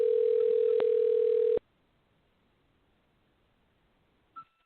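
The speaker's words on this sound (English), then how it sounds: "It just gives you a ringtone." A loud, steady telephone dial tone hums for about a second and a half and then cuts off abruptly, followed by near silence and two faint short blips.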